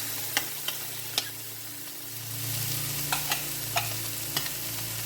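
Canned corn frying in olive oil in a pan, with a steady soft sizzle that swells midway and a few sharp clicks and taps of a utensil scattered through; no one talks.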